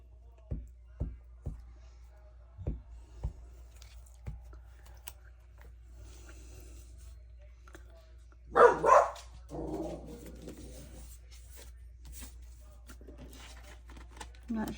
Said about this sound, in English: I'm not sure what he's barking at